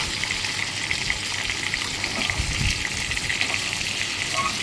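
Fish pieces fry in hot oil in a pan, giving a steady, close sizzle with a brief louder bubbling burst partway through and no voices over it.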